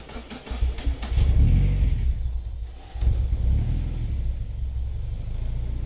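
A Honda F20 or K20 engine in a workshop cranks and catches with a short burst, then settles into a steady, loud low rumble of running, with a brief dip in the middle.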